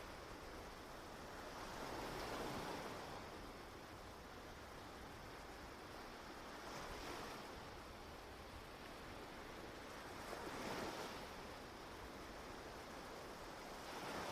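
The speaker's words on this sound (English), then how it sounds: "The powerful sound of crashing waves and the eerie, dramatic landscape make it both wild and mesmerizing." Waves roll onto Reynisfjara black sand beach in Iceland, a soft distant surf with slow swells building and fading about every four seconds beneath a constant low wind hiss.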